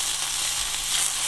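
Stuffed brinjal cooks uncovered in a pan, giving a soft, continuous sizzle and crackle that holds steady through the short stretch, with no speech.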